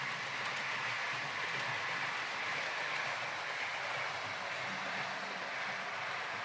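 A Great Western Railway liveried class 57 model railway locomotive runs steadily, hauling Mark III sleeper coaches with a continuous rolling rumble and faint rail clatter, no talk.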